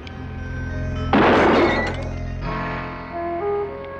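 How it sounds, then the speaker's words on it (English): Glass of a car headlight breaking: a loud sudden smash with scattering shatter and clinking, then fading tinkles, over a steady tonal background with no talk. "Hey, you broke the headlight."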